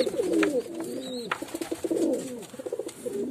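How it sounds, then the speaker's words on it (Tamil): Pigeons in a cage, including young squabs, cooing in repeated soft, throaty calls close by, with several overlapping coos and no talking. "இது 2மே அந்த தவடால் புறாவோட குட்டிங்க"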